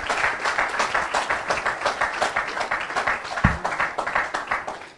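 Church congregation applauding during a sermon, steady rhythmic clapping from many hands filling the room at a fairly close, even level throughout.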